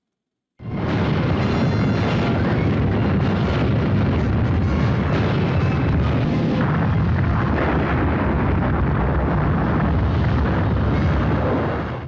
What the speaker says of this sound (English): It took 8 torpedoes to bring that ship down.